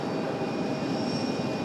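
Aircraft engine roaring as a plane takes off from runway 23 left at RDU airport, a steady loud broadband rush held briefly and alone.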